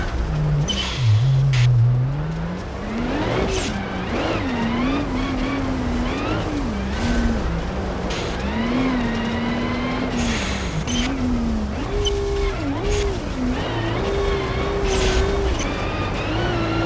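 A truck engine droning through a drive in the BeamNG driving game, its pitch rising and falling with throttle and gear changes over a steady road rumble, close and continuous with occasional clunks and no talk.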